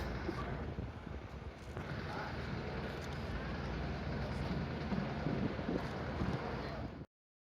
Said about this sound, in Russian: потому что очень холодно и ветер дует